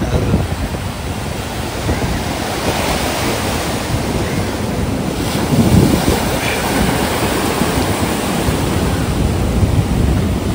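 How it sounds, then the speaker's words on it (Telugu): Strong ocean waves crash and roll in at Kovalam Beach in Kerala, a loud continuous roar of surf with steady wind buffeting the microphone and no talking. "ఘోరంగా వస్తున్నాయి అలలు అయితే."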